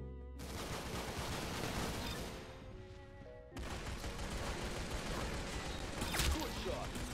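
Gunshots from the Roblox shooter Arsenal, rapid bursts of fire filling the stretch, briefly thinning near the middle before the loud volley resumes, with players talking over the action.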